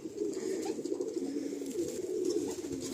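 Madrasi pigeons coo in a steady, low, throaty drone at close range, a continuous murmur with no voices over it.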